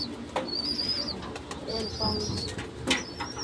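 Pigeons, including young birds, at a feeding spot, with soft cooing and brief chirps and a short flutter of wings, fairly close and continuous over light background noise.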